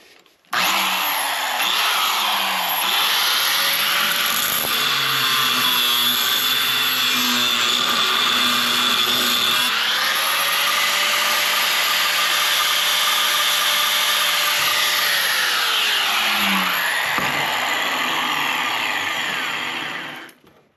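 A grinder bites into stainless steel scrap in one long, loud, continuous run, its whining motor pitch sagging and recovering under load before cutting off at the end.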